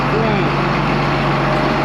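A tractor engine idles up close with a steady, loud low rumble that fills the whole stretch, and voices are faintly present beneath it.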